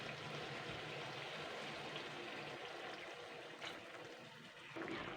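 Water pours into a pan of egg curry with a soft, steady rushing trickle, faint and continuous, with no voices.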